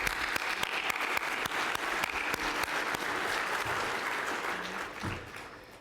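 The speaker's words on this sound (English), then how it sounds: "Let's give them a big round of applause." Applause from a crowd at a real estate competition night, a full, steady round of clapping with crisp individual hand claps that fades out near the end.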